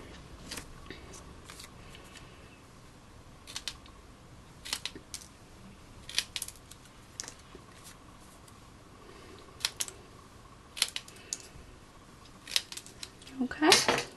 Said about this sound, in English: cut into the centre at the bottom and then cut that triangle out again